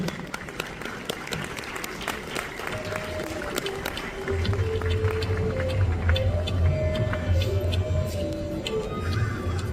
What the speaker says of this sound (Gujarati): ખૂબ તાળીઓ સાથે આપણે આ ક્ષણને વધાવીએ જ્યારે આ એક્સચેન્જ થઈ રહ્યું છે